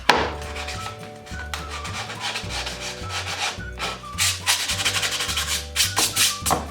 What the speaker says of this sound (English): I usually run just a little bit of sandpaper over it, just to get that rough edge off